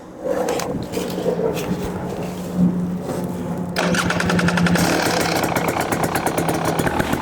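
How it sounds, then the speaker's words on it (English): A KTM 300 XC two-stroke dirt bike on its stock exhaust starts from cold with a low steady hum, then catches into a fast, crackly idle from about halfway on, close to the mic. "So now I'm gonna do a cold start for you guys."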